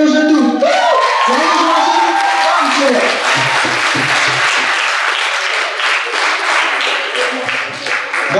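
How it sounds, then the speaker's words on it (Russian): An audience claps in a dense, steady burst of applause at a college stage show, loud and sustained, with a voice calling out over the start before the clapping takes over. "Давайте, ребята, давайте, хлопайте."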